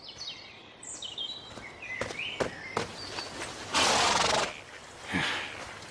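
A saddled horse whinnies with a descending, wavering call, followed by hoof thuds, rustling and a burst of noisy movement nearby.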